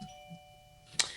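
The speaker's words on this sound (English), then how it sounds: "Ding dong, the bell rings." A doorbell gives a single faint, short ring near the end, following a quiet stretch with a low steady hum.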